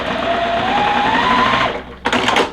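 A sewing machine stitches quilt block pieces in a fast, steady whirring run, loud and close, then stops and starts again for a short final burst.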